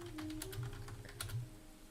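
Quick typing on a computer keyboard, a brief run of light clicking keystrokes close by, with faint background hum and no speech.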